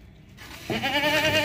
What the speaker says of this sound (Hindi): भागने वाला बकरा है, लंबे कानों वाला, चौड़ा, वजनी